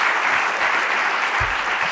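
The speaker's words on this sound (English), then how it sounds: "A big round of applause, please, for this session." Audience applause fills a conference hall after a session on global partnerships, a dense steady wash of clapping from a sizeable crowd, loud and close, with no talking over it.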